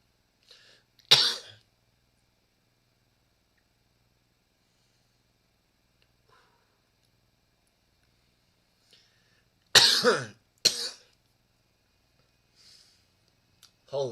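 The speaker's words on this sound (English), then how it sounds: "I need to stop coughing" A few harsh coughs break a quiet room: one near the start, then two close together later, with faint breathing between.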